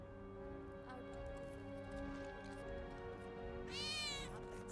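A cat meows in the Final Fantasy VII Remake video game, one clear wavering meow near the end over sustained background music, fairly close and moderately loud, with no voices.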